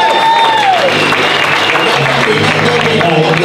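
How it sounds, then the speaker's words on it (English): An audience at a boxing press conference breaks into loud, sustained applause, a dense wash of clapping, while a voice talks briefly over it. "We're going to applaud Angel."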